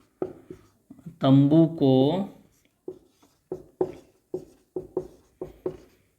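A pen writes on paper during a class 10 maths lesson, making a steady series of short, close scratchy strokes in a regular rhythm. A voice speaks briefly near the start.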